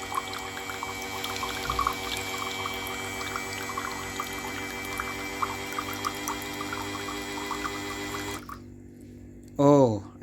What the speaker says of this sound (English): The amount of water coming out is not that much, but I think it's okay.